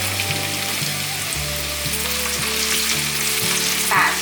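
Shiitake mushrooms stir-fry in a pan with minced ginger and celery, giving a steady, close sizzle with occasional stirring scrapes, a constant frying hiss throughout with no voices.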